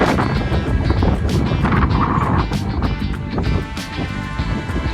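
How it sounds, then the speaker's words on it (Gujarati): Loud, gusty wind buffets the microphone continuously on a hilltop near Talaja, a rough rumbling roar with bursts and swells throughout. "પવન બહુ છે ભાઈ, એના લીધે અવાજ મારો સરખો નહીં આવે."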